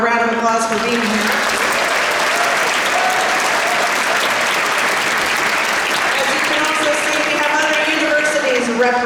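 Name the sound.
audience applause at TubaChristmas concert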